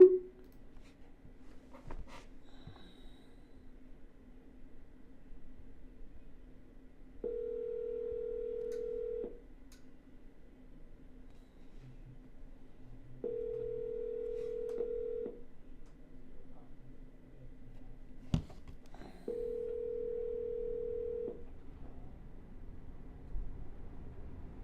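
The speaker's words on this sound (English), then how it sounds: "we're going to give it a double dial real quick." Phone ringback tones from calling a seller: three steady two-second tone bursts spaced several seconds apart, faint and clear over quiet background with a few small clicks.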